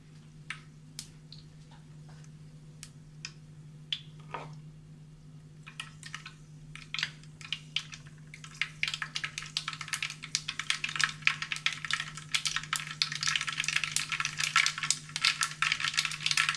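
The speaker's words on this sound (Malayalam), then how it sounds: "കടുക് പൊട്ടി തുടങ്ങുന്നുണ്ട്." Mustard seeds begin popping in hot coconut oil over a low flame: scattered sharp crackles at first, growing into a dense, rapid spatter of pops over a steady low hum.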